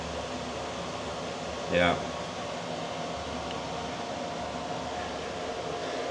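Heat pump clothes dryer running, a steady broadband whir and hum throughout, with one short spoken word briefly over it near the start.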